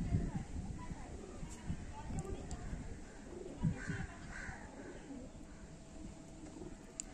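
Pigeons, including a large black-and-green Malbai type, coo softly at close range, with low murmuring calls repeating through the yard amid background chatter and shuffling.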